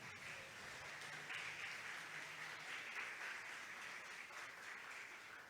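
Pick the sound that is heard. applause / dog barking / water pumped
applause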